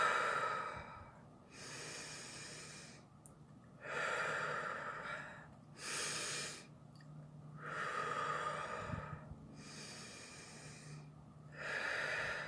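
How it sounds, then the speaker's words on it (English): Slow, deep breaths during a guided meditation, each long inhale and exhale drawn audibly in a steady rhythm of about six cycles, close and fairly soft with quiet pauses between. "Take a few deep breaths."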